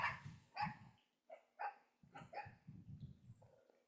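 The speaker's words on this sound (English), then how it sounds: "Oh, those puppies are going nuts." Several puppies on a homestead bark and yip in quick, overlapping bursts, fairly faint and a little distant, with the yapping continuing throughout.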